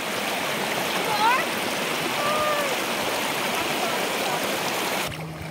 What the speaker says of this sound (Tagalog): So ayan po, pangalawang ilog na tayo.